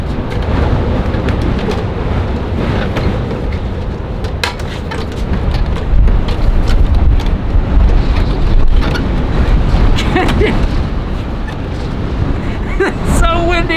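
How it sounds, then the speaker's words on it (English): Strong, dusty desert wind blows outside an Airstream trailer in Marfa, Texas, a loud, continuous roar buffeting the microphone throughout, with brief clicks and rattles near the end. "It's so windy out here."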